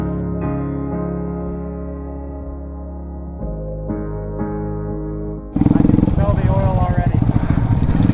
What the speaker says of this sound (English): I know I'm on a Grom and not on my dirt bike